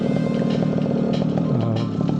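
A paramotor engine idles on the ground with a steady, loud, continuous drone and slight wavering in pitch, running alone without talk.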